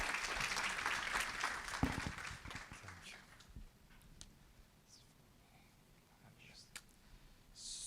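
Applause from an audience at a startup presentation event, dense clapping fading over the first few seconds into quieter scattered claps and room noise.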